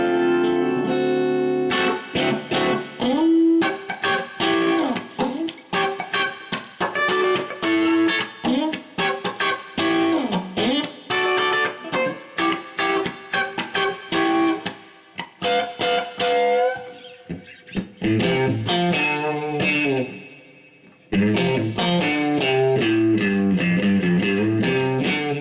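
Electric guitar played straight into a Peavey Bandit 65 amp with spring reverb, a steady run of strummed chords and picked notes with a ringing reverb tail, heard alone with no talk.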